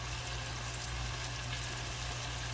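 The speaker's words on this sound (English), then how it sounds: "our ground beef sizzling away" A constant, even sizzle of ground beef frying in a hot pan for chili, steady and close, over a low electrical hum with no talking.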